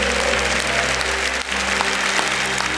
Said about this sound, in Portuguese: Vamos aplaudir o Senhor maravilhoso.